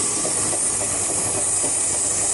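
A two-tone Class 142 diesel unit runs non-stop through Barry Docks station, a steady loud hiss and rumble of passing railcars, with faint wheel clatter, filling the clip alone.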